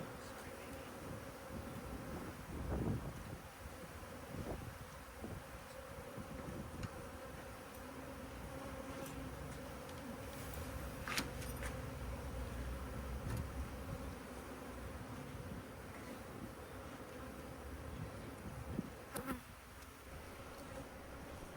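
Honey bees buzz steadily around an opened hive holding brood, a dense, continuous hum at moderate level with a few louder passes of individual bees close by and no talking.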